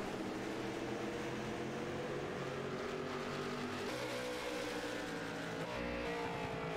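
Race cars lap a racetrack with engines droning loudly and continuously, pitch shifting as they rev and pass, with no talk over the engine noise.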